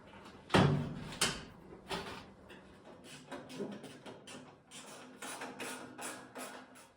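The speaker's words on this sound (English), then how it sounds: "The door goes back on." A glass-paned door being refitted onto its hinges after a glass repair, heard as a sharp knock followed by a run of clunks, taps and rattling handling sounds close by.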